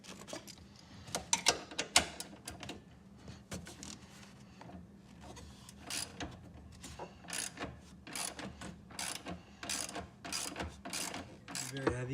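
Rapid ratchet wrench clicking while a 17mm bolt holding a seatbelt anchor is worked loose inside a Dodge Stealth, in bursts of sharp mechanical ticks with short pauses between, close and moderately quiet.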